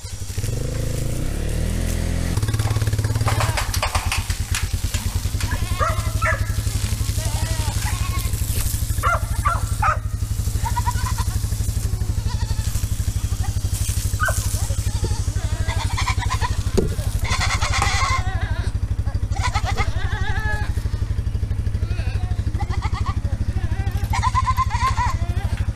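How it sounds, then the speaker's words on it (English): Goats bleat repeatedly over a steady engine drone, cries overlapping and coming from several animals nearby throughout. "A lot of crying going on around today because we separated the babies."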